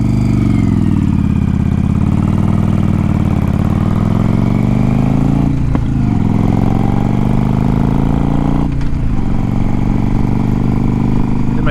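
Motorcycle engine droning loud and steady while riding, pitch sliding down then jumping at two clutchless gear shifts, with sharp breaks in the tone at each change.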